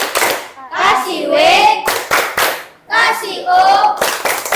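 A group claps in a rhythmic pattern, sharp claps alternating with voices chanting along, loud and close.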